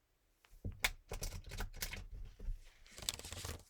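Playing cards are shuffled in quick, crisp bursts of flicking and riffling, a rapid papery clatter, fairly quiet and close.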